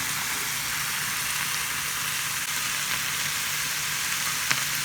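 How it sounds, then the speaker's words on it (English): Shrimp stir fry with broccoli and snap peas sizzles in a pan, a steady, close, crackling hiss of frying with a few faint clinks, no talk. "now I'm going to add some broccoli. This is 1 cup of broccoli. Also, you want to add a half a cup of snap peas."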